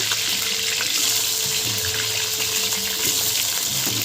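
Potatoes frying in hot oil, already used for frying pointed gourd, make a dense, steady hiss up close, unbroken and without any talking.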